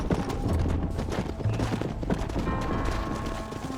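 Horse hooves clip-clop steadily in Red Dead Redemption during farmhouse chores, a quick uneven rhythm of hoof strikes set against busy game ambience and music, moderately loud throughout.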